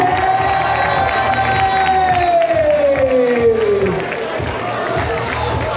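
A loud crowd cheers and shouts at a night running race, with children's voices and scattered clapping, while a commentator's voice rides over the din and a whistling tone slides downward midway.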